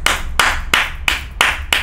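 Hands clap in a steady rhythm, six sharp, loud claps spaced evenly and close by, with no talk over them.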